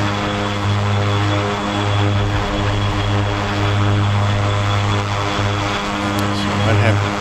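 An OV-10 Bronco twin-turboprop in the DCS flight game drones steadily and loudly, its propeller hum constant throughout, with a voice talking over the engine noise.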